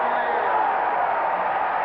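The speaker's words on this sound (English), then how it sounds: "You can hear this crowd" A stadium crowd at a 1984 North Carolina vs Virginia lacrosse game roars steadily after a Virginia goal, a dense sustained cheer with no break.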